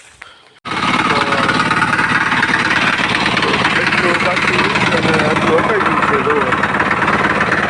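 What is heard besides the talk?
power weeder engine running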